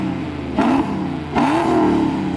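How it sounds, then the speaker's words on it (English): A 1987 third-gen Camaro with a stainless exhaust, high-flow cats and mufflers, revving hard twice in quick succession, each blip rising sharply from a loud idle rumble, close and very loud. "So this thing is ungodly loud, like way louder than you would anticipate a car with mufflers being."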